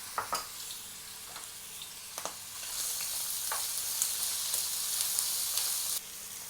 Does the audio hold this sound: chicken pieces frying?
yes